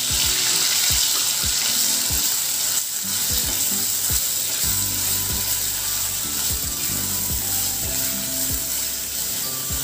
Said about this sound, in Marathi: त्यामध्ये आता मी हे जे वाटण आपण मगाशी वाटलं होतं ते छान तेलामध्ये घालून आपण परतून घेणार आहोत